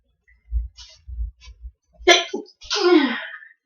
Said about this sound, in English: That was me sneezing.